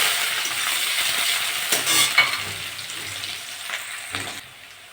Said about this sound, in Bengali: পেঁয়াজ আর কাঁচা লঙ্কা দিয়ে দেবো।